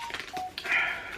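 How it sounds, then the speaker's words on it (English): A mobile phone goes off with a short burst of bright electronic tones, a few quick beeps followed by a sustained chirp, close and fairly loud. "Of course, my phone's going to go off now."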